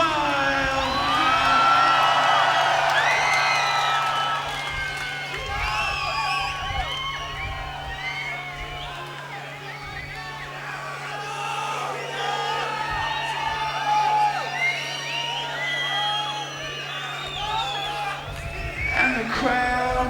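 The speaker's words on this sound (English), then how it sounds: "And the crowd goes wild." A festival crowd at a concert at Pinkpop 2003 roars and cheers with scattered whoops and shouts, loud and sustained, swelling at the start and again toward the end.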